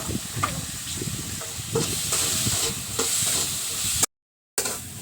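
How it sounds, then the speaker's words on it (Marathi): Onion sautés in hot oil in a pan, a continuous close sizzle broken by repeated spatula stirs and scrapes, with a brief silent gap near the end. "टाकून घेते त्याच्यामध्ये कांदा परतून घ्यायचा"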